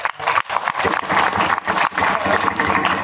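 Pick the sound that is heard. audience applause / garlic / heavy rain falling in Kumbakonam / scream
audience applause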